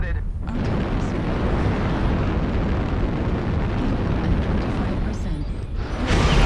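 An artillery strike in the MechWarrior Online video game makes a loud, continuous roar of explosions that rumbles steadily for several seconds and swells again near the end.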